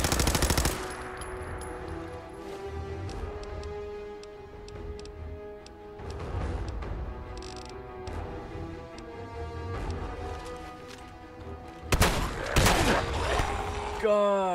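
Rapid automatic gunfire from the player's weapon in the video game Fallout 4, bursts of loud repeated shots around a continuous game soundscape, with a sharp heavy crash near the end.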